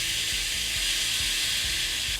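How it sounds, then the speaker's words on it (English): A steak's fat cap searing in a hot cast iron skillet gives a steady, close, hissing sizzle throughout, with faint low knocks underneath and no voices. "I'm just going to sear the fat cap"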